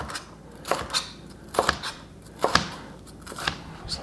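A knife cutting vegetables into julienne strips for Korean BBQ chicken tacos, a series of crisp, close chops on a board in an uneven rhythm, about a dozen cuts.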